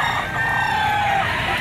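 A rooster crows loudly and close by at a chicken auction market in Lipa, one sustained crow with poultry clucking and market noise around it.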